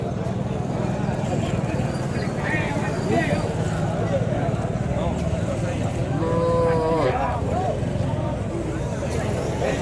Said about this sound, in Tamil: கண்ணுக்குட்டியோட வந்து மாடுங்கள்லாம் வந்துருப்பாருங்க பசு மாடுங்க